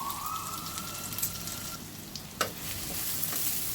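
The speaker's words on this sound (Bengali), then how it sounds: "পেঁয়াজটাকে আমি ভালো করে ভেজে নিব" Chopped onions frying in a small amount of oil for a mustard-style rui fish curry, a steady broadband sizzle close by with a few light scrapes of stirring, continuous and fairly quiet, no talking.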